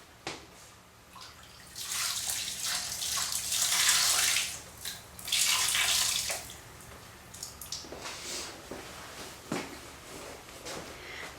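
Wool roving is pushed under water in a crock pot for dyeing. It makes sloshing, splashing water sounds in two louder surges, then quieter drips and small splashes, close by. No one speaks.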